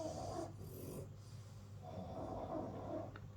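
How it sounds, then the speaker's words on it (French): Small dogs snoring while asleep indoors: faint, slow rasping breaths, two drawn-out snores with a pause between them, low and soft against a quiet room. "C'est de nouveau mes chiens qui ronflent"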